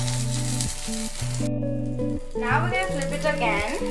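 Food sizzles in ghee on a hot pan, giving a soft, hissing fry beneath background music while a person talks.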